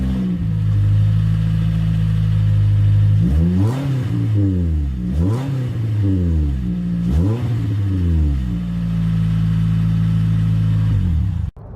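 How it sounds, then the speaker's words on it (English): A 2017 Toyota Corolla SE exhaust idles with a deep steady rumble, then revs sharply three times, each rev rising and falling back, before cutting off abruptly at the end. "Take a listen to hear what that exhaust sounds like."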